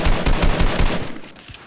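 Rapid bursts of video-game gunfire from a Fortnite match ring out in a quick rhythm of about six loud, close shots over the first second, then fade to a quieter tail.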